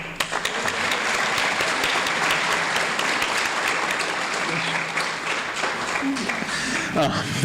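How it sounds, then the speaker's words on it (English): A room full of people at a community college student awards ceremony applauds steadily throughout for an award recipient who is not present. The clapping is dense and even, and it fades slightly near the end. "we'll give her a round of applause"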